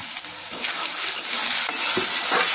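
Potatoes fry in a pan with a pinch of salt and sugar, a continuous close sizzle with occasional stirring scrapes and no talking.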